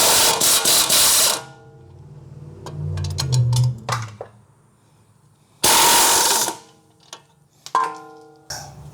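Wrench loosening the 19 mm bolt and 21 mm nut on the front strut of a 2007–2011 Honda CR-V: loud metallic clicks and scraping bursts in quick runs, with quieter ratcheting ticks between and a final burst of clatter.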